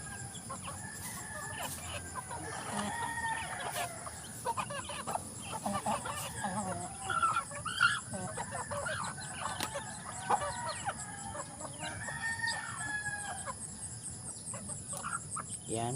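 A flock of mostly hen chickens clucks steadily while feeding in the morning, with a rooster crowing now and then and a constant chirr of insects underneath.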